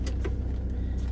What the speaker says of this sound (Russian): закрываю машину